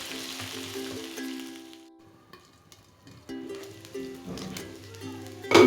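Beef boti kabab pieces frying on a tawa give a steady close sizzle with soft crackling, easing off briefly and then swelling again with a faint clatter near the end.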